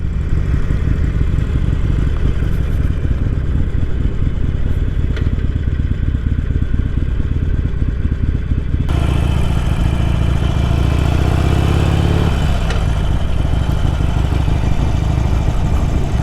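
A Harley-Davidson motorcycle engine idles close by, a continuous low rumbling throb that stays loud throughout and grows heavier partway through.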